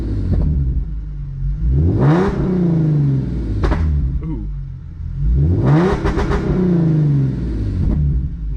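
Hyundai Genesis Coupe 3.8 V6 revved in two loud sweeping bursts, each climbing and falling back to a rumbling idle, with a brief exclamation from a voice nearby.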